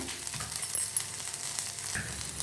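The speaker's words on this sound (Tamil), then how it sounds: "உளுத்தம்பருப்பு செவக்க வறுக்கணும்" Urad dal, horse gram, garlic and dried chillies dry-roasting in a pan, a soft continuous crackling sizzle with light stirring scrapes, close and fairly quiet, with no speech.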